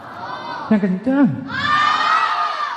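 At an Islamic istighotsah prayer gathering, a lone voice calls out briefly before a large crowd answers with a loud, sustained collective shout that holds steady to the end.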